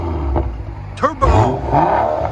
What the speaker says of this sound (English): You can actually hear the turbo spooling up a little bit